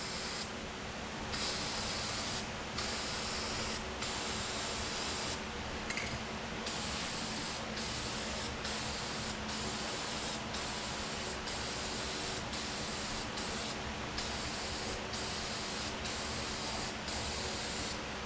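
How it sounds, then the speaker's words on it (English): Aerosol oil sprayed in repeated short bursts onto a CF Moto Zforce side-by-side air filter, a steady close hiss broken by brief pauses, with no talking. "Just spray it on there like you're painting."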